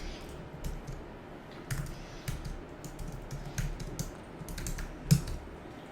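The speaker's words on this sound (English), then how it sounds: "I am filling the data here" Fingers type on a computer keyboard while filling in a checkout form, quick irregular bursts of soft key clicks, close and faint against a quiet room.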